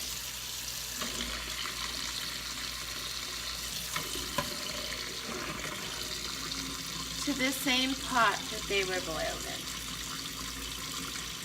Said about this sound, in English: I'm just going to let that cold water run for about 3 or 4 minutes